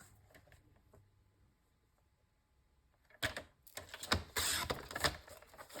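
A paper trimmer slicing paper for a linen album, a quiet stretch followed by a burst of loud rasping, scraping cuts and clacks close by, with no talking.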